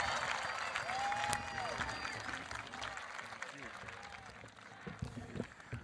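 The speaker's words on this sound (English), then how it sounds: "please clap." Audience applause at a high school graduation ceremony, Madison Park Technical Vocational High School class of 2021, steady clapping from a large crowd with voices mixed in throughout.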